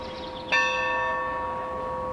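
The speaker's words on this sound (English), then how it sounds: "Bells rang Wednesday in Dover." A single church bell in Dover strikes loudly and then rings on, its bright tone slowly fading away in a quiet setting, tolling in memory of the Orlando shooting victims.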